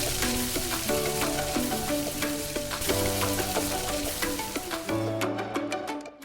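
Spice paste frying in mustard oil in a wok for a prawn curry, a steady close sizzle with occasional spoon scrapes and clinks running through the whole stretch without any talk.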